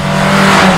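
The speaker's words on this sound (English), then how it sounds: "this fabulously revvy little 2-litre engine, which delivers its power in such an earnest and linear way" The 2-litre engine of a 1976 Fiat-Abarth 131 Rally roars loud and close, revving in a sustained, rising note throughout the short burst with no speech over it.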